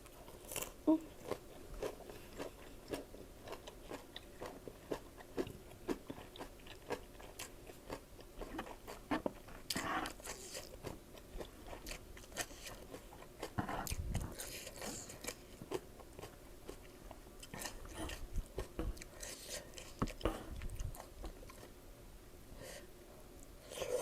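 Crunchy food is bitten and chewed close up in a home kitchen, with scattered crisp crunches and bites repeating irregularly over a quiet background.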